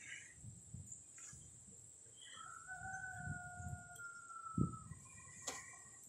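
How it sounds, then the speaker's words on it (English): Rooster crowing from a neighbour's yard, heard at moderate distance as a drawn-out call lasting a couple of seconds over a low outdoor rumble, with faint clucks and bird chirps nearby. "I got two people who live close to me that have roosters."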